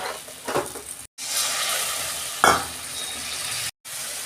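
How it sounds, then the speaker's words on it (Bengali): Spice paste sautéed and stirred in hot oil for a Bengali fish-roe dish, with soft sizzling and scraping stirs, a couple of brief louder bursts, and two short dropouts to silence. "মশলাটা ভালো করে কষে নেব"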